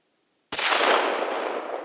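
A single 6.5 Creedmoor or .270 Winchester rifle shot fired through a muzzle brake, one sharp loud crack after a brief silence, followed by a long rolling outdoor echo that slowly fades.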